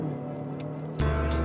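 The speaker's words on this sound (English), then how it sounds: "Got some high revs. It does hang its revs a lot." A 2025 Nissan Murano in sport mode holds a steady high-rev engine drone, then the tone jumps sharply louder as the revs climb again near the end.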